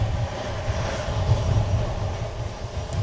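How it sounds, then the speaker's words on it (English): An American Airlines Airbus A319 jet departing the airport at Sint Maarten gives a steady, broad jet roar with deep low rumble, moderately loud and continuous, with no talking. "Yes, this is American Airlines flight 2478 from Charlotte, to Charlotte. Airbus A319"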